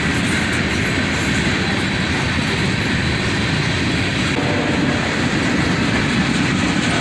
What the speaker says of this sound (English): A southbound manifest train.